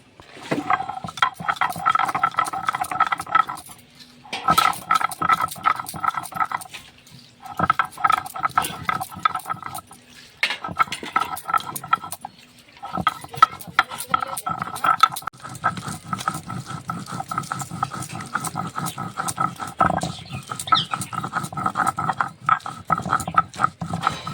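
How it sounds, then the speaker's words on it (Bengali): Fried spices are being ground into a paste, with rapid, rhythmic scraping and knocking of a grinding stone in repeated runs broken by short pauses, fairly close and clear. "আমি ভেজে রাখা মশলাগুলো বেটে নিচ্ছি।"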